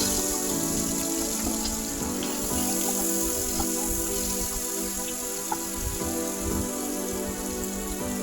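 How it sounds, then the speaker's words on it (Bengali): Prawns fry in hot oil in a pan, a constant dense crackle and hiss like steady rain, continuous throughout with no talking. "দেখো আমি হালকা তুলে নিচ্ছি লাল লাল হয়ে গেছে চিংড়ি মাছটা ভেজে নিচ্ছি"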